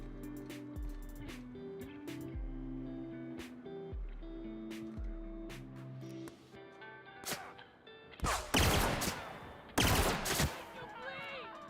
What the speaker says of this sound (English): Who's firing pop shots at me?